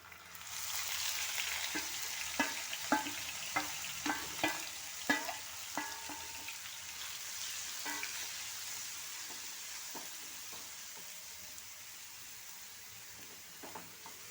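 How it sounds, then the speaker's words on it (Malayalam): Sliced onion frying in hot coconut oil, a steady close sizzle with a run of sharp scraping stirs in the first half, then continuing to crackle alone at an even level. "ഈ ചൂടായ എണ്ണയിലേക്ക് ഈ ഉള്ളി ഇട്ട് കൊടുക്കാം"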